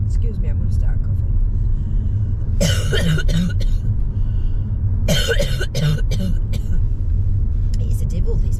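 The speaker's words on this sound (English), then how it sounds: "Excuse me, I'm going to start coughing." Inside a moving car on a Fylde Coast drive from Blackpool to Cleveleys, a man with a bug coughs in two harsh, close bursts over the steady low rumble of the engine and road.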